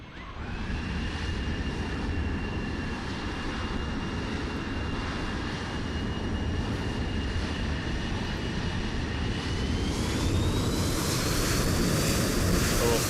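Steady piston aircraft engine drone at taxi power in a multiplayer flight simulator, continuous and fairly loud with a faint whine that rises near the end, no voices.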